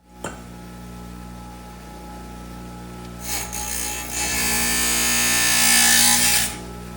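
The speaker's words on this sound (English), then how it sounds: "cutting them from Chinese white tubing using my tile saw" A tile saw idles with a steady motor hum, then bites into Chinese white glass tubing, giving a loud, harsh grinding screech for about three seconds before the cut ends and the motor keeps whirring.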